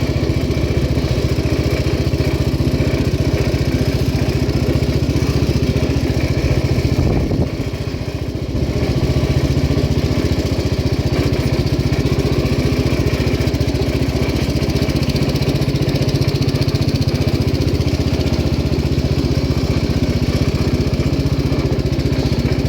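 A 1967 Gravely 430 garden tractor engine runs steadily and loudly for the whole stretch, a rough, droning putter with a brief dip in the middle.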